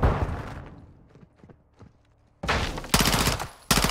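Gunfire in Call of Duty Modern Warfare 2 during a room-clearing fight: loud, dense bursts of shots start after a quieter stretch with a few isolated cracks, then hammer in three heavy volleys near the end.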